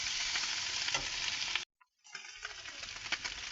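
Bottle gourd curry with a handful of coriander leaves is stirred in a pan. A loud, continuous sizzle and scraping carries throughout, broken by a brief near-silent gap before it resumes, with no talking.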